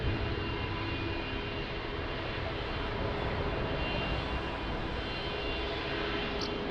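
A large airliner taxis across a runway at Lisbon Airport in the rain, its engines giving a steady, loud broadband roar that holds evenly throughout with no voices.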